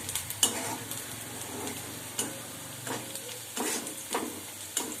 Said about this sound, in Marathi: चला तर मग आपला कांदा मस्त असा फ्राय होतोय